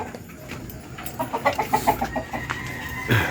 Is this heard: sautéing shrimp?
no